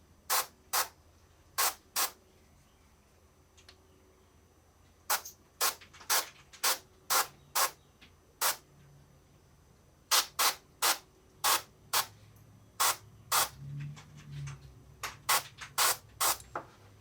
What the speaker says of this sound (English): I'm going to spray a little bit in on his pants here.